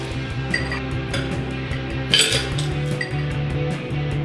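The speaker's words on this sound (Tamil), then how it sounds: "ஒரு கிளாஸ் கப்பில் ஐஸ் கட்டியை சேர்த்துக்குங்க." Ice cubes clink into a glass cup while a rambutan shake is being made, with several sharp chinks over a steady low hum, one louder clatter near the middle.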